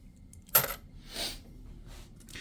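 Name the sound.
coins from the board game Architects of the West Kingdom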